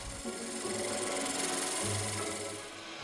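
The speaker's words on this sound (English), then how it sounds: "with a parting tool I form the mortise" A parting tool cuts a circular mortise into an elm plate spinning on a lathe, giving a continuous close scraping and whirring that holds steady and eases off slightly at the end.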